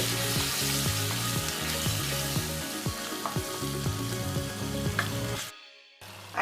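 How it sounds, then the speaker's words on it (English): Onion and pomegranate paste sauteing in a hot pan, a continuous close sizzle broken by repeated stirring scrapes, then a sudden drop to near silence near the end. "I will saute little"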